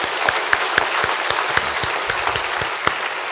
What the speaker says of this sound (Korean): 우리 그 하나님께 우리 큰 박수로 한번 영광 돌리시겠습니다